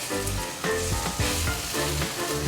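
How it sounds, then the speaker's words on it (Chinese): Thin ginger slices stir-fry in a pan for a vegetarian three-cup dish with sesame oil, giving a loud, steady sizzle broken by rhythmic scrapes and tosses of stirring. "可以趕快的炒一炒，讓薑片炒香。"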